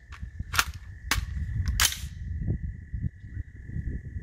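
An AR-15 rifle fires about four sharp, close shots in quick succession during recoil comparison shooting. A steady tone and rumbling background noise continue beneath the shots, with no talking.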